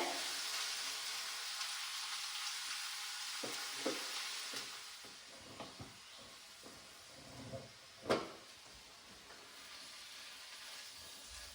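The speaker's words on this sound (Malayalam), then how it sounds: "ഇതിപ്പോൾ നമ്മൾ ഉള്ളി ചെറുതായിട്ട് വഴറ്റിയതും നമ്മുടെ ചിക്കൻ ഹാഫായിട്ട് നമ്മൾ ഫ്രൈ ചെയ്ത് വെച്ചതും കൂടെ നമ്മൾ മിക്സ് ചെയ്തിട്ടുണ്ട്" Chicken stir-fried in a pan with sautéed onions, a steady sizzle running throughout, with scraping stirs and clanks growing more frequent in the second half and one sharp knock near the end.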